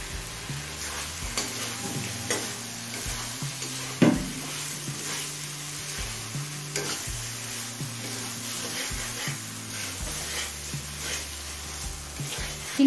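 Shrimp frying in a pan over medium flame with ginger-garlic masala for chingri pulao, a steady close sizzle broken by repeated scraping stirs of a spatula.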